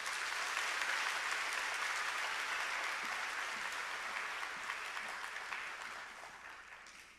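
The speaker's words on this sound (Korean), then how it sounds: "박수로 모시도록 하겠습니다." A congregation at a Korean church's Sunday worship service gives a guest pastor a sustained, even round of applause. The clapping is steady and fairly soft, and it tapers off gently at the end.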